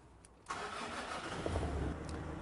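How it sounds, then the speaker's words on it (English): A car engine cranks briefly and fires, then settles into a steady, fairly quiet idle at close range. "now we're going to turn the engine on so we can see live data values"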